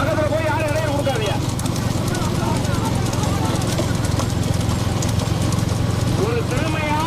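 Racing bulls at a village bull race in Navakollai, hooves pounding in a steady rapid clatter close by, mixed with engine noise and continuous loud commentary over a loudspeaker.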